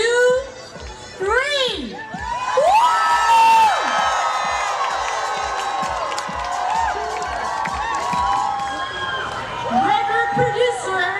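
A large crowd at a One Billion Rising for Justice event screams and cheers loudly and continuously, with high-pitched whoops and shrieks rising above the din.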